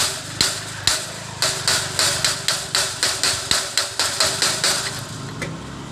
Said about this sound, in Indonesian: Jadi kita harus pukul dulu atau kita palu dulu agar kotorannya turun